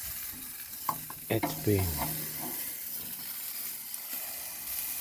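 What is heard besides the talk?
Irish beef strip loin steak searing, reverse seared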